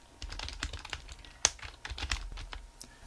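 Close, quick keystrokes on a computer keyboard form an irregular run of light clicks with one louder tap partway through, heard alone.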